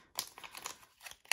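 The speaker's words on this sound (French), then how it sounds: "Je vais plier mon billet." A paper banknote is folded by hand: several quick, crisp crinkles and creases, close to the microphone and fairly quiet, with short pauses between them.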